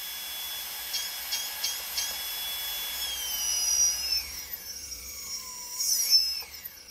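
A GARTT ML2212S 920KV brushless motor spinning under throttle, a close, high, thin whine that holds steady, then slides down and climbs back up in pitch as the throttle changes, with no talking.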